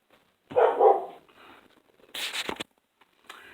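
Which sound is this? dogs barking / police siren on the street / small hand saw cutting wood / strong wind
dogs barking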